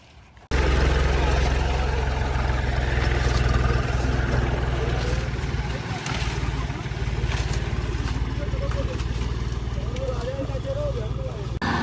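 A tractor engine in a vineyard chugs loudly and steadily close by, a constant low droning rumble that starts abruptly and runs on throughout.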